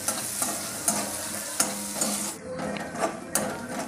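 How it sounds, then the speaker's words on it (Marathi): Two chopped onions sizzle gently in a kadhai over low gas while a spoon stirs them, with rhythmic scraping strokes every half second over a steady close frying hiss. "कांदा व्यवस्थित कमी गॅसवर छान भाजायचा, गुलाबी रंगावर, जास्त घाई करायची नाही।"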